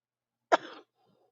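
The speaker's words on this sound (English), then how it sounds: "I still got a cough, so y'all gotta bear with me." A single sharp cough, close and distinct, followed by a short raspy tail and then near silence.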